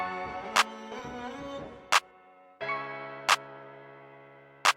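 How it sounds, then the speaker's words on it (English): A dry, effect-free FL Studio clap snaps four times at even spacing, loud and crisp over a soft melodic sample. "I added in a clap that sounds like this."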